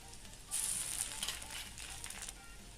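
Onions and ginger paste fry in hot oil for a Bengali fish curry, giving a steady sizzle with a louder burst partway through, close by and with no voices.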